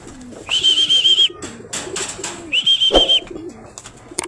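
A racing pigeon arriving home after a race, with two long drawn-out coos a couple of seconds apart, close and clear over faint background noise, no talk.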